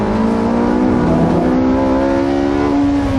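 An all-wheel-drive supercar pulls hard out of a tight corner on a race track, its engine note a loud, sustained whine that climbs steadily in pitch through the gear, heard close and unbroken.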